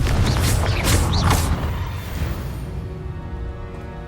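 A Confringo fire spell bursts in Hogwarts Legacy, a loud booming blast with a crackling roar that slowly fades into a lingering rumble.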